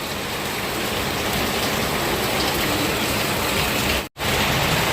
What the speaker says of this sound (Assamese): এইফালে পূৰা বৰষুণ দি আছে একদম